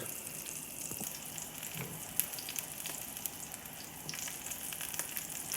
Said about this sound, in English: Break up the good stuff that's in the bottom of this pan, and we're going to fry it up.